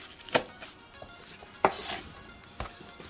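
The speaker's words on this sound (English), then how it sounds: "And with our scallion aka green onion, just some nice chops to it." A knife chops scallions on a cutting board with three sharp, close thuds spaced about a second apart, plus faint lighter taps between them in a quiet kitchen.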